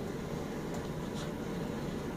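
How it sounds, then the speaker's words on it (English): A 1954 Westinghouse 110-volt clothes dryer runs with a low, steady mechanical hum and whir, quiet and unchanging throughout. "Let's hear this Westinghouse dryer."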